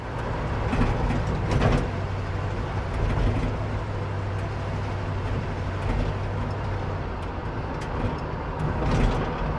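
Chevrolet Chevelle on a test ride, steady broadband road and engine rumble with a constant low hum throughout, moderately loud from inside the car.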